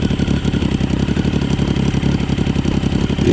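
A Yamaha Raptor ATV swapped to a 1050cc engine runs steadily nearby, with a loud, continuous rough pulsing and a clattery idle-to-light-throttle rumble heard on its own.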